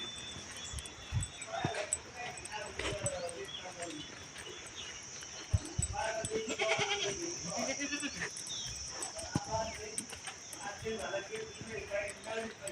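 Goats bleat now and then at moderate distance on a farm in the heat of the day, with crickets chirping steadily behind and people talking intermittently.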